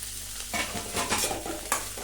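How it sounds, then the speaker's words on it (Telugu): Tomatoes tipped into ivy gourd frying in a pan bring a burst of sizzling and a few stirring scrapes, close and brief, with no talk. "ఇప్పుడు టమాటా వేసేసుకోవాలండి"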